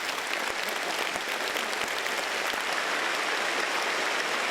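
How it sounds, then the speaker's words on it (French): A large audience breaks into dense, sustained applause, an even wash of many hands clapping together at a steady loud level for the whole stretch. "Ces applaudissements sont une expression de résonance, de réponse et de salutation."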